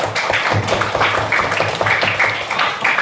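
Classroom of students clapping together, a dense patter of quick overlapping hand claps with a few louder beats, close by and fairly loud, with faint voices underneath.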